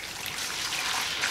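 Water pours into an old tub being filled to dunk a bicycle tire, a continuous bright splashing trickle, close and steady for just over a second.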